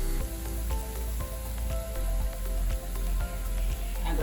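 Green chillies and gram flour frying in hot oil in a pan, a steady crackling sizzle with fine pops and spatters running continuously, close and fairly loud, with no talking.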